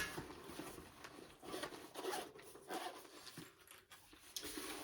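A small zipper pouch holding a battery pack for an EMS suit is handled up close, with soft rubbing, rustling and brief zip-like rasps coming in irregular bursts at low volume.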